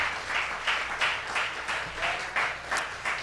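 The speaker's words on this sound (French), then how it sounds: "on nous applaudit Saint-Esprit de Dieu encore" A church congregation at a Sunday service claps steadily in rhythmic pulses, fairly loud and sustained, with no clear speech over it.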